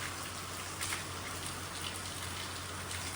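Heavy rain pours down steadily in Punjab, a dense, even hiss of drops striking surfaces that stays constant and close throughout, with no voices.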